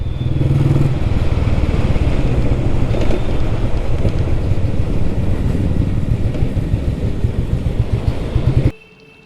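A vintage Royal Enfield Bullet motorcycle on a test ride, its engine a loud, steady thumping drone mixed with wind rush, continuing unbroken before cutting off abruptly near the end.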